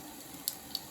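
Warm water runs steadily from a tap during handwashing, a soft continuous hiss with a couple of faint drip-like ticks.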